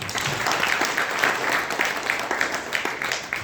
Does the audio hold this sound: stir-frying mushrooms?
no